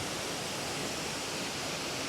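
A waterfall in Springbrook National Park thunders down in a steady, dense roar of falling water, loud and continuous with no breaks and no voices.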